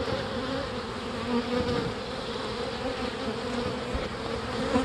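A dense, steady buzz of many honeybees swarming around a large open hive during an inspection, continuous and close, with no voices.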